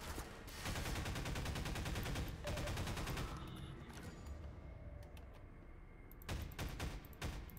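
Enemy gunfire in Half-Life 2: rapid automatic bursts crackle loudly for a few seconds, then fade to quieter scattered noise before a fresh volley of shots breaks out near the end.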